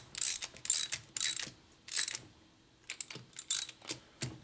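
Quick bursts of ratchet clicking as a threaded part is tightened on a 1977 1000cc Ironhead Sportster motor under rebuild, several short rapid runs with brief pauses between, close and crisp.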